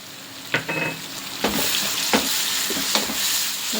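Capsicum and tomato sizzling loudly in a hot pan, with several distinct scraping stirs of a spatula cutting through the continuous frying hiss.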